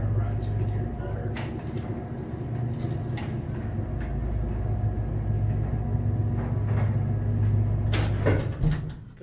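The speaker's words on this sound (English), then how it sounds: "Let's stay silent for our ride so we can hear the motor." A Nock & Garside traction elevator motor at an apartment building runs with a steady low hum and rumble during the ride, closing with a brief clunk and rattle near the end.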